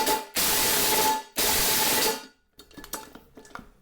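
An impact wrench fitted with chrome sockets runs in two loud, close bursts of about a second each on classic JDM three-piece wheel hardware, followed by fainter metallic clicks and rattles.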